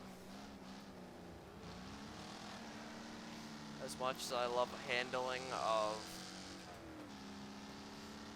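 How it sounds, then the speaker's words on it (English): An American V8 engine in the racing game Wreckfest drones with steady harmonic tones, rising in a few quick revs midway, while someone talks over it. "Oh, I love me a good old American V8."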